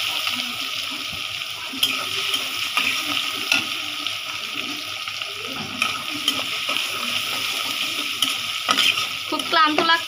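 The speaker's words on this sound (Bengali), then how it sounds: "শুধু রসুন দিয়ে ভাজি করব আমি এটা" Vegetables frying with garlic in a pan, a loud continuous sizzle broken by stirring and scraping clatter, with a faint bit of running water near the end and no voices.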